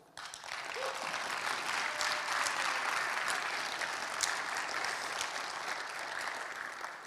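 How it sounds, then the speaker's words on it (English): An audience at a CypherCon awards session claps steadily, a full, even round of applause that swells briefly and then holds before tapering off slightly at the end. "let's give them a round of applause"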